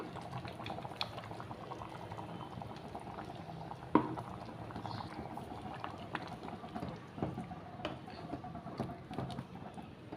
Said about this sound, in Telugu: సిమ్లో పెట్టుకొని ఒక 5 నిమిషాలు ఉడకనివ్వాలండి బాగాను.